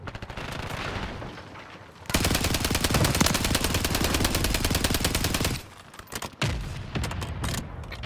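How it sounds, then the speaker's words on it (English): Friendly mortar strike and gunfire in a video game: dense, loud, sustained bursts of automatic fire and heavy booms, with a brief lull before the barrage resumes. "Friendly mortar strike on the way."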